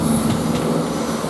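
A train pulls away from a platform at Ashford International station, a loud, steady rumble of rail wheels and engine noise, close by and continuous with no talk.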